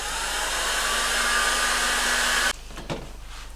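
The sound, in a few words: heat gun warming heat shrink tubing on wire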